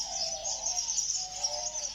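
Finches in an aviary chirping: a continuous high twittering chorus of several birds overlapping, fairly close, steady for the whole moment with no voices.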